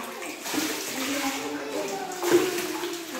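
Water runs from a newly installed household tap, a soft steady gushing stream with a small splash near the end, heard under quiet talking.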